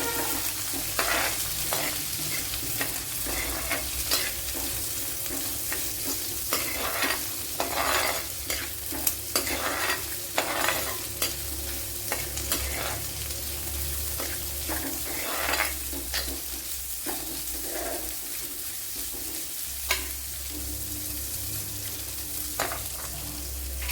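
Dried red chillies fry in hot oil in a pan for a Kerala-style mackerel curry, giving a steady close sizzle with repeated scrapes and stirring clatters throughout, no voices.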